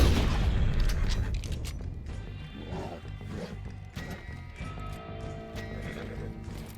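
A horse in the video game Red Dead Redemption 2 whinnies loudly up close, followed by clopping hooves and scattered mechanical game sounds over several seconds.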